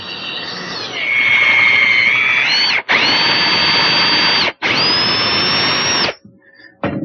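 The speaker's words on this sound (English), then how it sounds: "I'm going to go to a slightly bigger drill and just enlarge the hole in the post" An electric drill bores a screw hole into the wooden post of a handmade Windsor chair. It gives a loud, whining run in three bursts separated by two brief pauses, rising in pitch as it bites, then stops.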